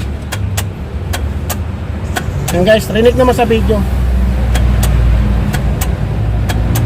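A Nissan Urvan van with a hard-starting fault is cranked to start, with a run of sharp, evenly spaced clicks and a low engine rumble that grows toward the end, while someone talks over it.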